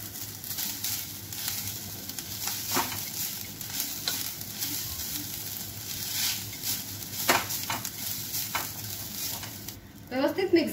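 Grated coconut is stirred in a hot pan for a fried modak filling, making a soft sizzle with regular scraping strokes. A louder clatter and a brief voice come in right at the end.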